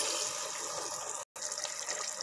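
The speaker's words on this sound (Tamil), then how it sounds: "நான் 1 டம்ளர் கொஞ்சம் வெதுவெதுப்பான சுடு தண்ணி" Warm water from a tumbler gushes steadily into a pot of mutton biryani, a close, continuous pour with a brief dropout near the middle.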